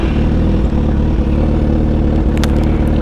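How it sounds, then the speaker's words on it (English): A 2008 Suzuki GSX-R 1000 sport motorcycle with an aftermarket exhaust runs loud and steadily at close range with a deep, rumbling, throaty exhaust note. "it's an aftermarket exhaust, so don't expect it to sound quiet"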